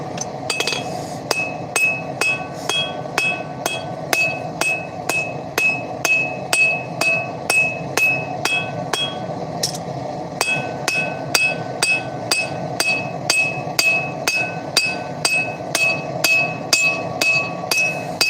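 Hammer forging titanium tongs: steady, evenly spaced ringing metallic blows on an anvil, loud and close, repeating for the whole stretch with a brief pause partway through and no talking.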